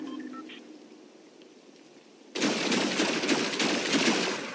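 SMG fire in Fortnite Chapter 4 starts abruptly partway through as a loud, dense burst of rapid shots that keeps going to the end, after a quieter stretch of faint game ambience.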